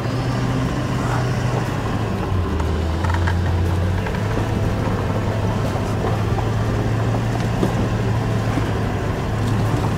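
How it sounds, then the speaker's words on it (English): A 4x4 in low range climbs a steep track in Sundown National Park, Queensland, its engine droning loud and steady with a rough rumble and shifting pitch throughout, no voices heard. "Oh geez, I'm glad I did put it into low range, Em."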